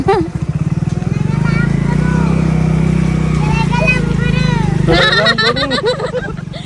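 Loud, close motorcycle engine drones steadily while riding, with people talking over it and a burst of excited voices near the end.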